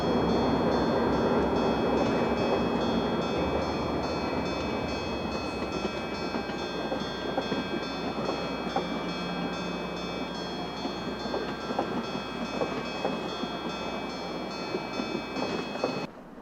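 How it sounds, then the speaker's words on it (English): A rush hour Port Jeff train hauled by ALCo locomotives rumbles past steadily, a loud continuous rolling drone with engine hum and faint rail clatter throughout, easing slightly near the end. "A rush hour Port Jeff train."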